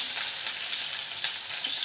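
Onions frying in a clay pot, a steady bright hiss and sizzle at moderate level with soft crackles, no voices.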